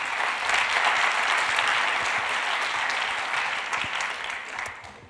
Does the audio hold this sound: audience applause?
yes